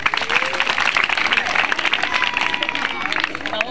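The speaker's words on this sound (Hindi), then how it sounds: "ताली बजा दीजिए" Audience applause at a magician's street show, steady dense clapping mixed with crowd chatter and voices throughout, close and fairly loud.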